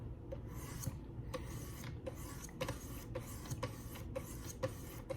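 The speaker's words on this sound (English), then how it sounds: "Let's start up with the 600 grits." A knife blade is drawn across a 600 grit sharpening stone in a steady series of about ten close, gritty rasping strokes, evenly spaced at roughly two per second.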